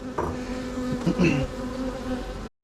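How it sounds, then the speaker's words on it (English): A large drone honeybee buzzes right beside a beekeeper's hand, a loud steady hum close up with brief bumps as it strikes, and no one speaking. "There's one big bee, it must be a drone bee, that keeps hitting my hand."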